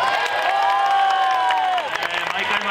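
A large baseball stadium crowd in Yokohama cheering and shouting during a post-game hero interview, with a sustained chanted tone rising above the roar before it breaks into scattered applause and cries.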